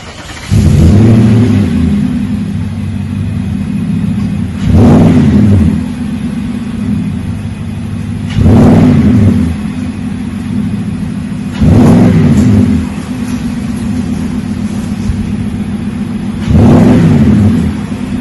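A 2017 Nissan Titan pickup's exhaust, with a Magnaflow mid muffler and factory catalytic converters, revs five times in steady bursts, deep and throaty, settling back to a low idle rumble between each blip.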